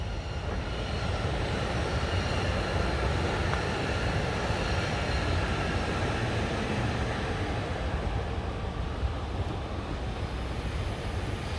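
A train rolls past on a nearby railway track in a residential area of Gamla Enskede, Stockholm. The rumble is loud, continuous and broadband, with a rattling clatter that holds steady and eases off slightly near the end.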